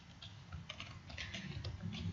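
Code is typed on a computer keyboard in quick, faint clicks and taps that cluster in irregular bursts, close and quiet, with no talk.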